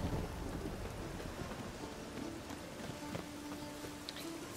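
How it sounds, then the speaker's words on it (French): A thunderstorm in the video game The Witcher 3 fills the scene with steady, loud rain hiss and low rolling thunder, continuous and enveloping, with no clear speech. "Un orage."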